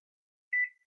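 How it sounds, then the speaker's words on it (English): A kitchen timer set for five minutes while bread dough rests, giving a single short electronic beep after a moment of silence. "my beautiful assistant, Keely, is going to set the timer for 5 minutes"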